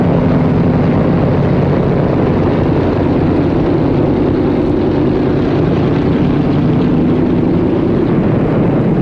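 Propeller aircraft engines drone loudly and continuously after landing, a dense, steady roar with a low throbbing hum and no pauses throughout.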